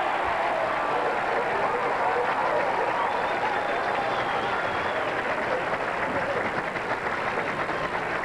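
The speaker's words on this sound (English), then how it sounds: "Crowd reacting to Walter Ray's shot." A crowd at a 1997 professional bowling tournament, the PBA Johnny Petraglia Open, cheers and applauds a shot by Walter Ray Williams Jr.; the noise is a steady, dense roar of clapping and voices throughout, and a voice talks over it.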